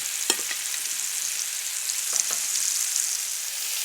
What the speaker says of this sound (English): The steak should sizzle if the pan is hot enough.